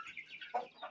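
A chicken clucks close by in a short run of soft, uneven calls, heard alone with no talk.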